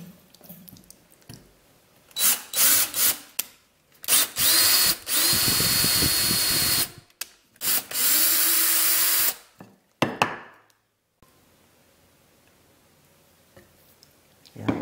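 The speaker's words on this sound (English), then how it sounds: "So we'll just drill this right now." A power drill driving a screw into wood on a birdhouse kit whirs in several bursts, revving up and stopping repeatedly, with short pauses and faint handling noises between runs.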